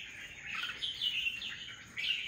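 Wild-caught red-whiskered bulbuls chirping in cold drizzle: a faint run of high, warbling calls and tweets, fairly distant and without talk, with a fresh burst of song near the end.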